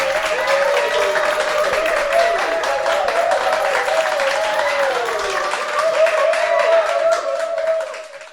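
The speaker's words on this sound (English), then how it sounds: "Let's give Rada a round of applause." A studio audience gives a round of applause at a business talk show taping, steady clapping under a sustained musical tone that swells and then fades out near the end.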